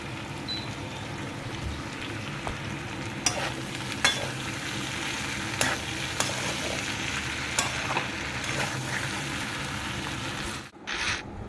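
Bori lentil dumplings fry in hot oil in a home kitchen, giving a steady, close sizzle with a few sharp pops and clicks scattered through it and a brief drop near the end.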